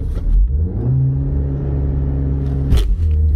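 Audi A4 2.0 TFSI launching from a standstill at full throttle with traction control on: a loud engine roar climbs steadily in pitch, then briefly breaks for a gear change and picks up again, with no talking.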